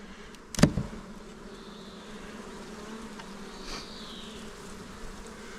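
Honeybees buzzing during a shook swarm give a faint, continuous hum, broken near the start by one sharp loud knock.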